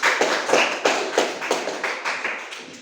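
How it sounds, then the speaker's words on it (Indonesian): Students in a classroom clapping together in a short burst of applause, about a dozen rhythmic claps that fade toward the end, moderately quiet. "tepuk tangan."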